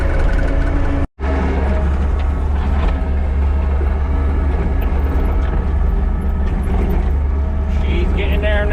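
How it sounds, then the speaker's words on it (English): A skid steer moving soil spoils while a driveway is being built, a loud, steady diesel engine rumble close by that runs throughout with a brief dropout, plus clanks and hydraulic whine over the top. "Taking the spoils with the skid steer and getting them over where they need to be."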